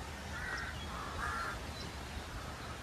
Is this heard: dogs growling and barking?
no